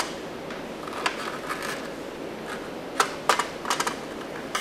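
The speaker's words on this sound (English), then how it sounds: "The next step is to cut my banana" A banana cut into pieces with a knife on a board, heard as a few quiet, sharp taps and clicks, clustered more toward the end, with no talking.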